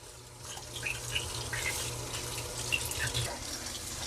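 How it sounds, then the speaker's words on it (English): Tap water runs steadily into a sink while sage is washed, a soft continuous splashing with faint trickles, quiet and without voices. "Now it's time to wash the sage."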